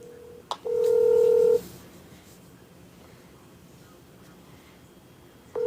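Telephone call tones: a short beep, then a steady electronic tone lasting about a second, quiet line noise, and another tone starting at the end. No one speaks.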